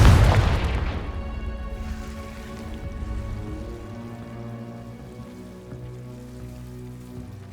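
Confringo spell from the video game Hogwarts Legacy, a sharp explosive burst at the start that rings out into a long, fading shimmering tail.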